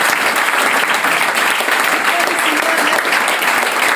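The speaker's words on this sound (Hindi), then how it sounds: "एक बार जोरदार ताली।" Enthusiastic applause from a crowd at a stage event, a dense steady clatter of clapping hands that stays loud throughout.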